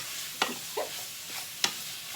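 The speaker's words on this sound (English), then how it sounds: "Stir that up a little bit." Chicken sprinkled with garlic and onion powder is stirred in a pan, making a few sharp scraping strokes over a faint, quiet sizzle, heard up close.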